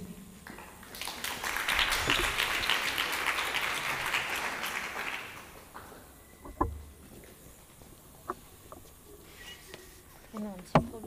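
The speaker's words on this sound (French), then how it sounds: "Merci de les applaudir chaleureusement." An audience at a French social-development conference applauds for a few seconds, a broad wash of clapping that fades out, followed by scattered thumps, handling noises and faint talk.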